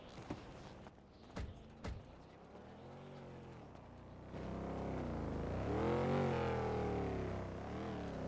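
A car driving in a GTA roleplay game on NoPixel 4.0, engine droning and rising in pitch as it accelerates, with a few sharp thumps early on and a person talking over it.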